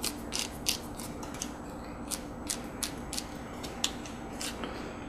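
A flashlight top cap is screwed on over a Thyrm Switchback, giving a series of small, close, dry ratcheting clicks and creaks in an irregular rhythm, quiet and unaccompanied.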